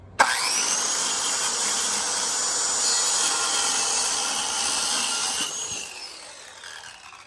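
Steady, continuous cutting noise of a power saw running through clapboard siding, loud and close, holding for about five seconds before winding down.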